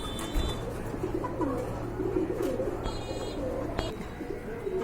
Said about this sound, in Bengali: এক জোড়া কবুতর, সুন্দর কোয়ালিটি ফুল এক জোড়া কবুতর